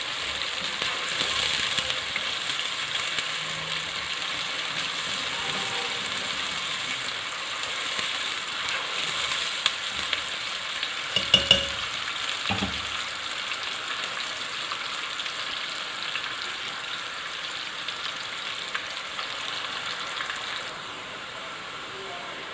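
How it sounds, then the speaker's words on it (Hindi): Two medium-size finely chopped onions frying in a pan to a medium brown, giving a steady, even sizzle throughout with a few brief clatters of stirring near the middle. "अब इस प्याज को हम करते हैं ब्राउन।"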